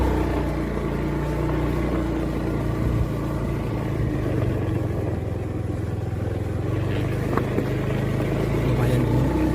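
A motorcycle ridden along a rural road in Aceh, Indonesia, gives a steady low engine drone with constant wind and road rumble, close and continuous throughout.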